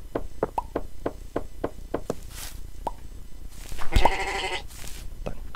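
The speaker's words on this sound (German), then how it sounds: "Oh, und ein Schaf." Sheep bleating in the video game MineClone 2 for Minetest, with a couple of short bleats over a steady series of game sound effects and a louder burst near the end, and no talking.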